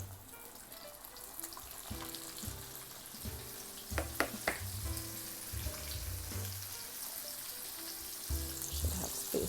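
Flounder fillets fry in hot oil, a steady crackling sizzle running the whole time with a few sharper pops and bursts midway, fairly close and moderately loud, with no voices.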